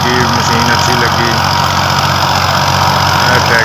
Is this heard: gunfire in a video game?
no